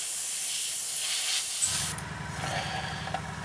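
An airbrush sprays a light coat of paint onto a 1/48 scale Eduard SE5a biplane model kit, giving a steady close hiss that shifts partway through as the spray continues, with no voices.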